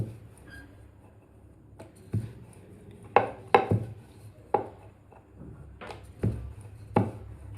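A rolling pin presses and rolls a small ball of mango dough into a puri for ambe che gharge, giving irregular wooden knocks and thuds on the board with soft rubbing between them, close and unhurried.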